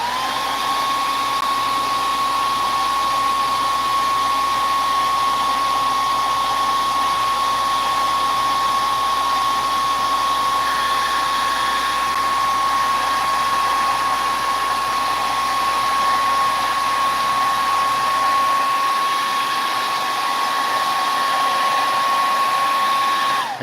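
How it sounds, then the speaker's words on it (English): A hair dryer force-dries fresh paint on a Pikachu figure, a steady, close, unbroken whir with a constant high tone that holds for the whole stretch and cuts its low rumble near the end. "I'm just going to force dry this with the hair dryer real quick"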